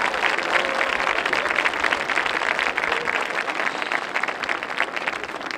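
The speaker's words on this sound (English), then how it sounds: "have another round of applause for the debut performance of the North Penn Hawaii Band" Crowd applause at a community night for a school marching band's debut, a steady, even wash of many hands clapping at moderate level without pause.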